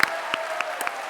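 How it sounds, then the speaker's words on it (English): Scattered claps close a conversation event, a handful of distinct sharp hand strikes spaced out over a brief moment, the tail end of a round of audience applause. "Please join me in one last round of applause"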